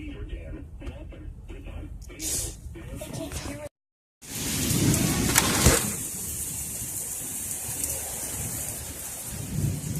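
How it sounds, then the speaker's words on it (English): Heavy rain pours steadily on a surface at Fiserv Forum in Milwaukee, with a rumble of thunder; a person speaks over the rain early on. "Still raining."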